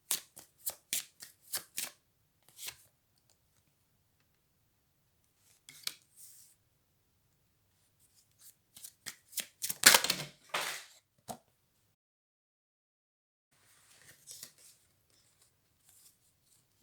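Tarot cards are shuffled in quick riffling bursts, crisp close papery flutters in short clusters separated by quiet pauses, with a louder flurry near the middle.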